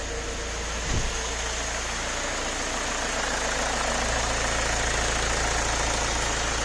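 An Opel Vectra B with a 2.0/2.2 DTI diesel engine idles steadily just after starting, a close, even rumble with a brief bump near the start.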